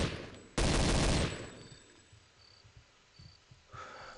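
A weapon fires in Counter-Strike Condition Zero on the Airstrip map, one loud close blast followed by fainter game sounds and scattered clicks.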